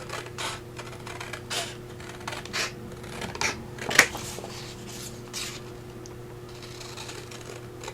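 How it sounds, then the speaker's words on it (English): Small fussy-cut scissors snipping paper during a shabby rose folio craft project, soft repeated close-up snips in an irregular rhythm over a low steady hum, with one sharper click midway. "I like to come in with the fussy cut scissors just to get around that little bit there"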